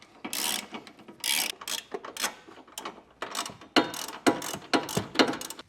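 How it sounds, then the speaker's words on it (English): Ratchet wrench with a 19mm socket snugging trailer hitch bolts on a 2023 Lexus UX 250h, rapid clicking pawl bursts in uneven spurts, close and fairly quiet. "we're going to snug these down using a 19mm socket"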